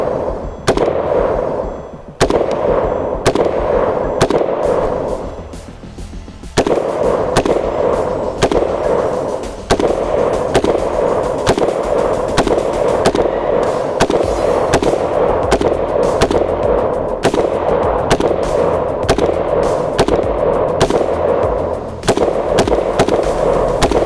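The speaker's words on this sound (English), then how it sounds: "So now I'm just gonna pop off a few more on the JMAC" A gun fitted with a JMAC FRD muzzle brake fires a rapid string of loud, sharp shots, close by, with short gaps between some bursts.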